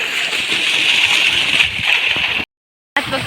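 Water from a motor pump flows along a field irrigation channel in a village, a steady close rushing gurgle that runs continuously, broken by a brief total dropout near the end before resuming.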